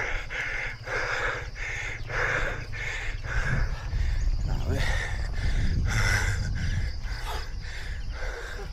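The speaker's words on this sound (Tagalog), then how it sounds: "Hingal." A cyclist pants heavily while climbing a steep uphill road at around 15–16 percent grade, with rhythmic, rasping breaths repeating close to the microphone over low wind and road rumble.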